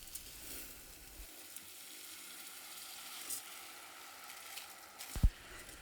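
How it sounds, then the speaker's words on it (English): Rice frying with onions in a pan, a soft, steady sizzle under the room tone with faint stirring scrapes and one sharper clink near the end. "it's like you're frying your rice"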